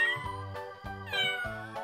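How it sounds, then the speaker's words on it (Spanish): FurReal Friends Daisy toy kitten by Hasbro, a battery-powered plush cat, gives a run of repeated electronic meows, about four close, clear, loud mews in steady rhythm with no talking. "Mira cómo maulla"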